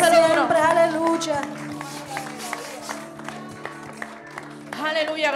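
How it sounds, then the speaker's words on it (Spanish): A church congregation claps during worship, scattered and rhythmic hand claps running beneath singing and voices, moderately close, with a sung voice rising at the start and end. "Dile un aplauso a ese rey."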